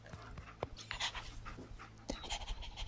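A dog in Fallout 4 pants rapidly and close by, quick rhythmic breaths with faint whimpering accents, soft and continuous throughout.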